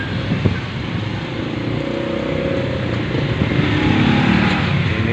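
City street traffic in late-afternoon Palu, with cars and motorcycles passing in a steady mixed rumble of engines, one motorbike whining past midway.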